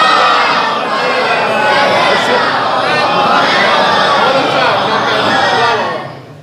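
A large crowd at a Muharram-season majlis gathering in an imambargah in Azamgarh, India, chanting salawat together loudly and in unison, a dense sustained roar of many voices that fades at the end.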